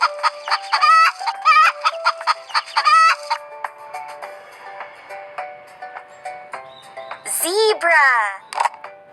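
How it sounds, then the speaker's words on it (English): A cartoon hen clucking in a children's animal-names clip, a series of bright, rapid clucks and squawks ending in a louder rising call, with a voice naming the animal. "Hen!"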